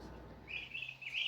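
Baby turkeys and young silkie chickens, kept indoors on a farm, chirp in a few short, high-pitched peeps over a faint background hum.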